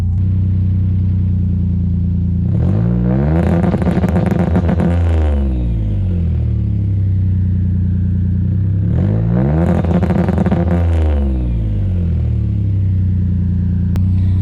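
A Subaru Impreza running an aftermarket ECU, recorded from outside, revs twice in loud sweeping pulls that rise and fall, with steady idle rumbling between and after the revs and no talking.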